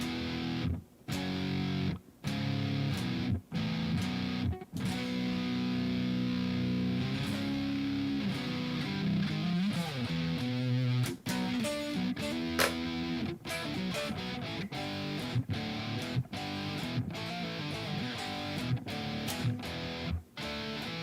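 Heavy, distorted electric guitar chords ring out one after another in a steady chugging rhythm, loud and sustained with short breaks between strums.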